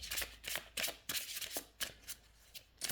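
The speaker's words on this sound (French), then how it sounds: "Je mélange en fait toutes les cartes ensemble et puis je tire" Oracle cards being shuffled by hand, a close series of quick papery riffles and slides in an uneven rhythm, fairly soft and with no talking.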